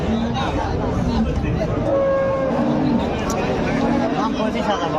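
Cow and calf mooing at a busy cattle market, several drawn-out moos rising over a constant hubbub of crowd chatter and nearby voices.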